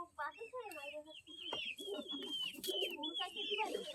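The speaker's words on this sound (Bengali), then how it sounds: "এটা হচ্ছে কি চোখ নীলা গ্রিনজেল কবুতর" A green-eyed pigeon in a cage, its cooing and throaty calls mixing with clucking and chirping from other caged birds close by, fairly faint and continuous.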